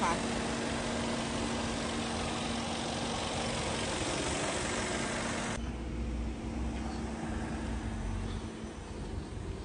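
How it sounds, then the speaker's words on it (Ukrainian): A Skoda's 1.4-litre, 90 kW engine idles with a steady, even hum and a faint tonal whine, while muffled speech sits underneath. "мотор працює рівненько"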